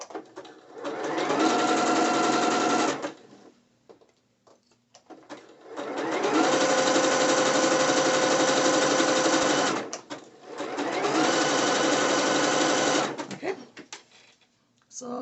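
Sewing machine stitching a drawstring side-ruched skirt in three long steady runs separated by short pauses, loud and close, with a brief spoken word at the start.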